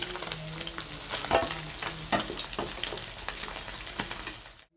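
Koi fish frying in hot oil for a Bengali fish curry, a loud close sizzle with scattered pops and crackles, scraped and stirred with a utensil, continuing steadily before stopping abruptly.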